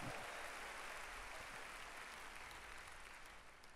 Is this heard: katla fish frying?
no